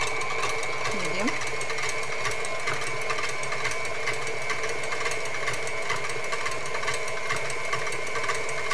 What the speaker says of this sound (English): And you just let it whip up until it's nice and thick and fluffy.